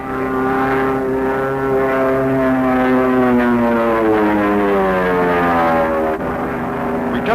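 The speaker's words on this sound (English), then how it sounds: "the fighters peel off once more for the bomb runs" Several P-51H Mustang propeller fighters fly overhead on a bombing-run exercise, a loud, steady piston-engine drone whose pitch slowly falls as they pass.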